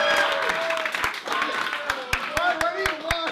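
Scattered, sharp handclaps ring out at irregular intervals beneath a person talking.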